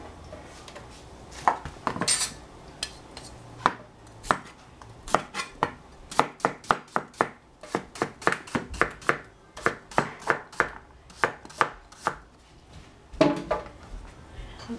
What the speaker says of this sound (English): Cut the cucumber.